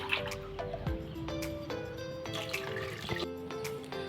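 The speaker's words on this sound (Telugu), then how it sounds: "ఇప్పుడు ఈ గ్లాస్తో 2 గ్లాసులకి 1 గ్లాసుకి 2 గ్లాసులుగా నేను వాటర్ అయితే వేస్తున్నాను" Water pours and trickles into a pot of rice being readied for cooking in a home kitchen, with drips, splashes and clinks of a glass or vessel, close and fairly quiet.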